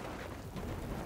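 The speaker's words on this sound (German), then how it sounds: "jetzt ist der Regen sogar tatsächlich da" Rain falls steadily under a low rumble of thunder in the video game Last Knight, a dense, even roar that lasts about a second.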